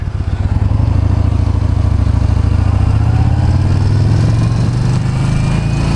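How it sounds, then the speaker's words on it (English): The engine of a 2014 Yamaha Bolt R-Spec motorcycle runs loud and close, its exhaust puttering in a steady low throb that climbs slightly in pitch toward the end. "I'm hearing more puttering from the exhaust."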